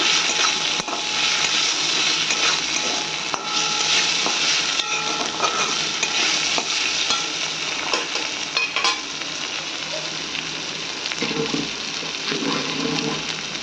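Chili, turmeric and cumin powder with salt frying for a potato and pointed gourd curry, a loud steady sizzle with spoon scraping, shifting to a bubbling hiss as a little water goes in near the end.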